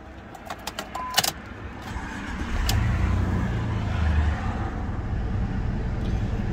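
A 2002 Jeep Liberty at auction starts with a few clicks and jingles of keys, then the engine turns over and settles into a steady low idle, close up.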